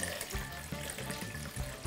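Water pouring steadily into a container in a kitchen while preparing chia seed pudding with coconut milk, a continuous close splashing stream with gentle gurgling pulses.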